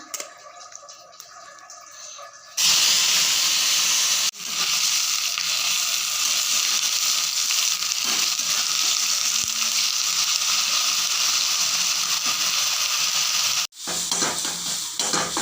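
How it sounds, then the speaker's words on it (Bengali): Small cut eggplant pieces sizzle and fry in a pan, a loud, steady crackling hiss that sets in after a quieter start and keeps going, briefly dropping out near the end. "বেগুন কেটেছি, বেগুন ভাজবো, ছোট ছোট করে কেটেছি বেগুনগুলো"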